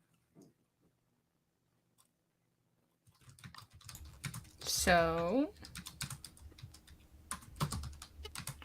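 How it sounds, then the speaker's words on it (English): Rapid tapping on a computer keyboard starts after a few near-silent seconds and continues steadily, with a short voiced sound and some background talk over the clicks. "Sorry for the typing ASMR."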